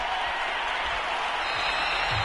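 Stadium crowd at an NFL matchup against the Philadelphia Eagles in a PS4 football video game, a steady broadband roar filling the clip at even loudness with no talk.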